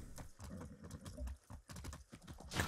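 Horse hooves clip-clop in the video game Far Cry 6, a quick uneven series of close hoof strikes across the whole clip, with a louder rustle near the end.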